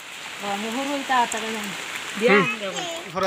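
Steady rain falls on a village setting as a soft, constant patter in the background while a person talks over it.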